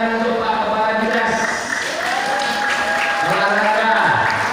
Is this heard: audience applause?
yes